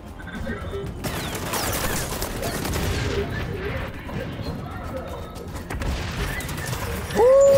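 Gunfire rattles through a match of the video game XDefiant in loud, dense bursts and volleys, with crashes and impacts mixed in and voices talking over the action.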